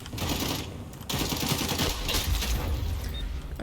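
Rapid AK rifle fire in the xDefiant shooter game, dense bursts of automatic shots with a brief gap before the firing resumes, loud and continuous throughout.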